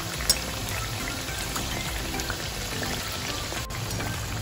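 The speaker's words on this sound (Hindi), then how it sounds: "हमें इनको ब्राउन होने तक फ्राई करना है।" Mathri, an Indian snack, frying in hot oil until brown, giving a steady, dense crackle and sizzle like light rain, close and continuous with no talking.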